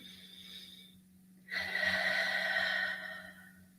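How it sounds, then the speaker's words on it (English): One slow, deep breath drawn in and released softly during a guided meditation, quiet and close over a faint steady hum, with no talking. "Just keep breathing with me. Another deep breath in."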